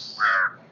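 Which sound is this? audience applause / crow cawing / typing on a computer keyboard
crow cawing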